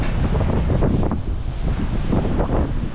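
Strong wind buffets the microphone outdoors near a ferry crossing, a loud, continuous gusty roar with surging bursts and no voices.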